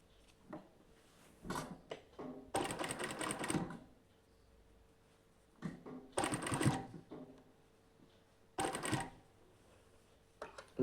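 A sewing machine stitches a cotton nighty in several short bursts of varying length, separated by quiet pauses and faint handling taps, fairly soft overall.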